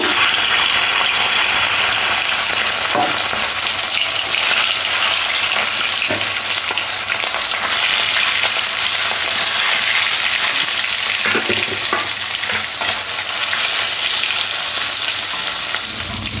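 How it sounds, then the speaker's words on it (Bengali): Katla fish pieces rubbed with salt and turmeric fry in hot oil, a steady dense sizzle and crackle running loud and close throughout with a few faint stirring clinks. "কাতলা মাছগুলো নুন হলুদ মাখিয়ে গরম তেলের মধ্যে লাল লাল করে এপিট ওপিট করে ভেজে নেব।"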